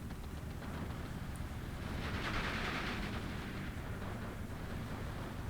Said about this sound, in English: The Jägers start shooting.